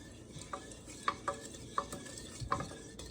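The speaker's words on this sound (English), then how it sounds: "we're just going to stir to combine" Cranberry sauce ingredients with sugar and liquid being stirred in a pot: a series of light clinks and scrapes of a utensil against the pot, about six distinct taps over a soft, steady background hiss, close and fairly quiet.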